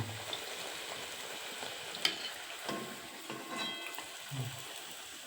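Nan puri frying in hot oil, a continuous close sizzle and bubbling with occasional sharp crackles and spits, steady throughout with no voices.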